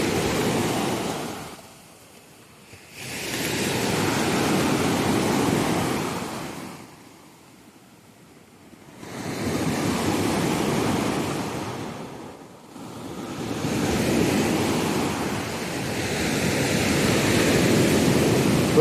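Sea waves breaking on a shore in Italy, three or four broad rushing surges swelling and fading in a slow rhythm, close and loud with wind noise.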